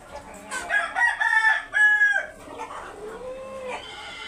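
A Laiza breed rooster crows up close and loud, a drawn-out, wavering call of several rising and falling phrases, followed by softer clucking notes.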